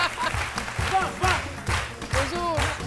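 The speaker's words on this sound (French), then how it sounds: "on le reçoit tout de suite avec de vives ovations" Studio audience on a midday television show applauds to welcome a guest, steady clapping mixed with cheers and voices throughout.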